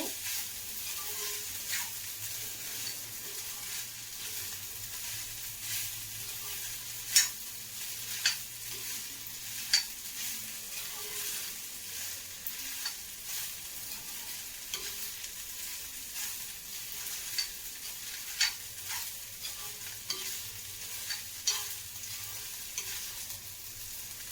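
Capsicum rice being stirred in a frying pan, a continuous soft sizzle with repeated scraping strokes of the spoon at an irregular rhythm, fairly quiet and close, with no talking.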